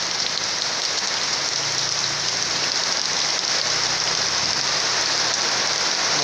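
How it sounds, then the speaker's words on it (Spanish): Heavy rain pours down on corrugated metal sheet roofs in El Salvador in a dense, unbroken hiss, loud and constant from start to finish. "Tenemos una lluvia bastante fuerte."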